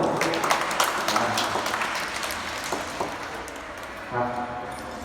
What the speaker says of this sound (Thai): ขอเสียงปรบมือให้น้องหน่อยลูก